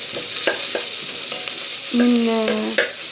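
Onions fry in a pan for a Libyan mbakbaka pasta dish, with a steady hiss under several sharp stirring clacks and a brief squeaking scrape near the end.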